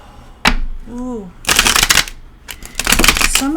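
Tarot cards are shuffled in two close, crisp bursts of riffling, with a short voice sound between them.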